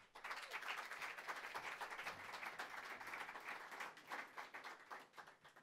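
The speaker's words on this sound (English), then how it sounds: "Please give him also a big round of applause." Audience at EDRi's 15th birthday event applauds a keynote speaker, the Assistant European Data Protection Supervisor, taking the stage. Steady, crackling applause runs throughout but sounds fairly faint and distant.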